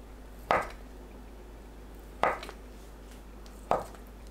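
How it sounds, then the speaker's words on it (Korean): Three separate knife strokes on a cutting board, spaced well apart, as Spam and shishito peppers are sliced; each cut is a short, crisp thunk, close and moderately quiet, with no talking. "스팸은 꽈리고추와 비슷하게 썰면 돼요"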